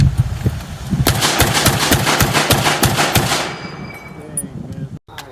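Rapid succession of loud, sharp M1 Garand rifle shots, roughly a dozen cracks in quick rhythm over about three seconds, followed by fading echo and quiet.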